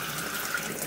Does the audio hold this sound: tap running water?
yes